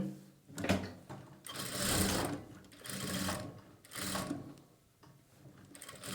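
A sewing machine stitches blouse lining in several close bursts, whirring runs separated by short pauses, without talk.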